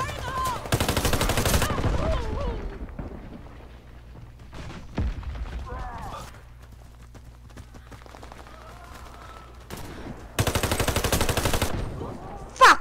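Automatic gunfire in the video game Warface on the Farm Sunset map: two long, loud rapid-fire bursts open and close the stretch, with sparse shots and quieter footsteps between them.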